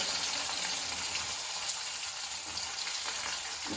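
Onion, green chilli and crushed garlic sautéing in oil in a pan for a potato masala, giving a steady, close, dense sizzle that holds evenly throughout with no talking.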